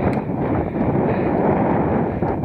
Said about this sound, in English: Getting a bit breezy up here as well. Probably able to easily pick that up on the camera.